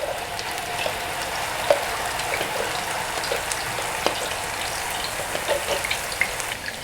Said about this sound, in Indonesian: Ini sudah panas minyaknya. Dan kita tumis bumbunya.